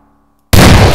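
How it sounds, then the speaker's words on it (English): Grenade exploding in Garry's Mod, a single sudden loud blast that breaks out of near-silence and holds as a dense roaring burst to the end, with no talk. "Oh, that was a grenade."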